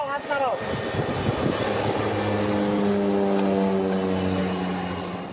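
A small propeller aircraft flies over the sea, its engine a loud, steady drone that dips in pitch at the start as it passes, then holds a continuous hum.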